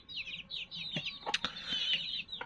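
Backyard hens cluck and chatter close by in a quick run of short calls, with a brief flap of wings and a couple of sharp knocks partway through.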